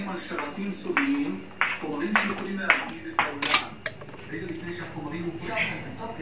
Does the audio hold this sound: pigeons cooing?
no